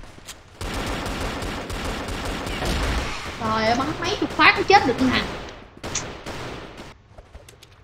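Rapid bursts of gunfire from the Dual Colt Volcano in the shooter game CrossFire rattle loudly in dense volleys, broken by short pauses, while someone talks excitedly over the shots.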